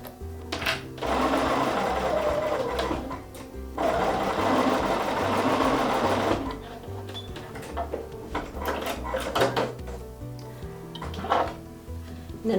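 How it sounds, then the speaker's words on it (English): Sewing machine stitching quilt blocks together, loud close mechanical whirring in sustained runs separated by short pauses and a few clicks and handling noises. "And then we're going to sew along, removing the clips as we sew."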